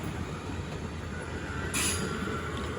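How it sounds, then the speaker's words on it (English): A regional train runs steadily on rails with a continuous rumbling roar and a brief high hiss partway through, heard from inside the train with no talking. "The train will only take 8 minutes"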